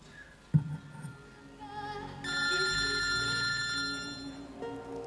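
A telephone rings within a video played during a church Sunday service, its electronic ringtone swelling in after a soft knock and continuing steadily at moderate volume.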